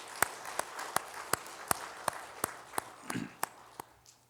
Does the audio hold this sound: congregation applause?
yes